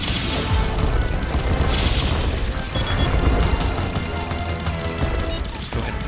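Bomb blasts in the OTTTD tower defense game on iOS: repeated deep booms and crashing bursts, close and loud over a busy battle with rapid clicking game effects.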